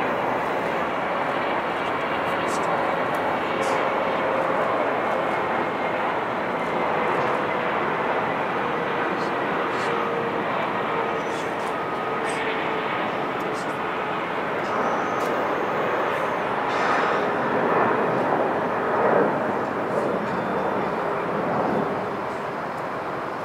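Japan Airlines Boeing 777 arriving at Los Angeles International Airport, a steady broad jet roar sustained for over twenty seconds, moderately loud and slowly fading at the end.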